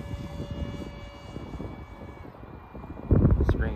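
A 50 mm ducted-fan RC A-4 Skyhawk glides in to land, its soft whirring fan and airflow rushing over a steady outdoor background, with a louder gusty burst near the end.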